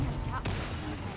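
A single sharp cannon blast cracks out amid battlefield din in the Conqueror's Blade video game, with a low rumble trailing after it.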